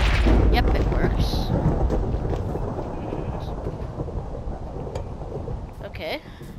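A loud, broadband rumble of thunder from a lightning strike in Minecraft opens and rolls on for several seconds, slowly fading, with some speech mixed in.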